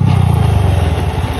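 A Honda XRE 300 motorcycle speeds past on a road, its engine a loud, steady buzzing drone with a rough, clattery edge that holds throughout the short stretch.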